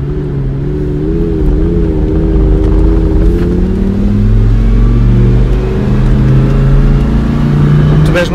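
A supercar pulls away from a standstill and accelerates, its engine droning loud and close with a rising, wavering pitch throughout the run, with no talk over it.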